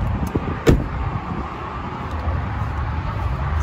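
A door on a 2021 Ford F250 STX pickup truck shuts with one sharp thud early on, then a steady outdoor rumble follows, with no talking.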